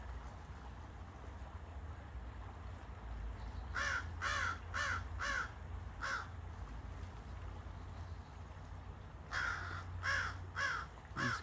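Crows near Fountain Creek give two bursts of harsh cawing, first five calls in quick succession, then after a pause another run of four or five, each call loud and distinct above a low steady outdoor rumble.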